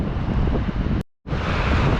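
Wind buffets a microphone on a Polish beach as large waves break, a loud continuous roar cut by a brief silent dropout before resuming.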